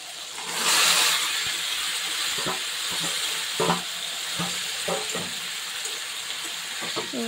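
Kholiya hits hot oil with a loud burst of sizzling, then fries on with a steady hiss while a spoon stirs and scrapes it in the pan now and then.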